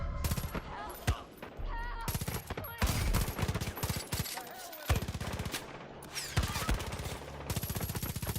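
Gunfire in Far Cry 5 aimed at the player, with loud rapid bursts and single cracks scattered through the stretch, close and dense, alongside other game sounds.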